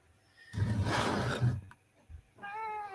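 A house cat gives a loud, breathy, growling yowl lasting about a second, then a softer rising meow, close to the microphone in a quiet room.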